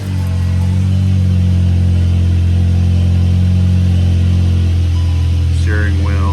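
A 2016 VW Passat with the 1.8 engine starts up and settles into a loud, steady idle hum that carries through the whole stretch, with a brief chime near the end and no talking.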